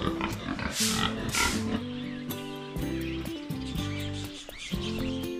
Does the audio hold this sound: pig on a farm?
yes